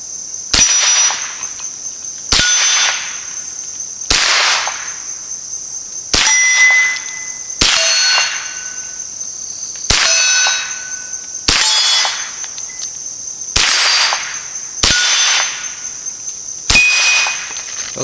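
A Ruger 10/22 rifle fed from an ATI drum magazine fires Winchester M22 rounds, ten sharp, loud cracks spaced about two seconds apart, each followed by a brief ringing tail.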